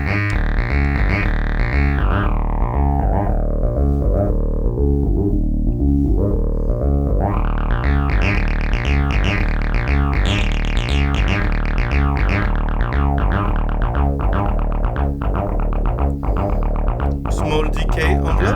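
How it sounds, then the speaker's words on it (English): An Eowave Domino, a small analog all-in-one synthesizer with transistor-based oscillator, amplifier and filter, plays a loud sequenced pattern of short decaying notes whose filter sweeps down and back open, steady and continuous throughout. "the Domino, a small all-in-one synthesizer"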